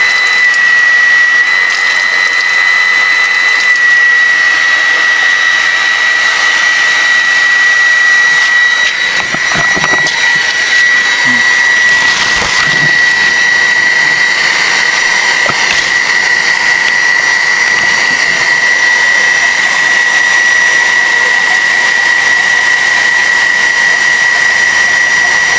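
An Ingco 0.5 HP water pump a year into service runs steadily and loudly throughout, a continuous motor whine with a strong high tone over broadband noise, a few brief disturbances midway.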